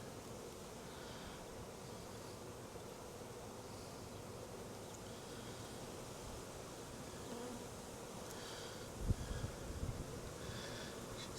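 Honey bees buzz around an open hive being inspected for a split, forming a constant low, dense drone that runs throughout, with a brief knock and a little rustling near the end.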